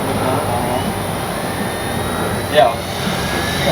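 A Flightline 1200mm F8F Bearcat warbird RC plane makes a fast, close pass on its maiden flight, its electric motor a steady whine that swells briefly as it sweeps by, with someone talking over it.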